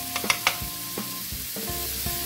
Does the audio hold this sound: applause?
no